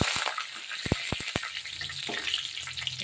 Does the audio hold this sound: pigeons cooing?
no